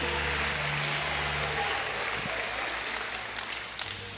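A church congregation applauds during a sermon: a steady wash of clapping from many hands, fairly distant and even, that fades gradually toward the end with some low background hum and faint voices.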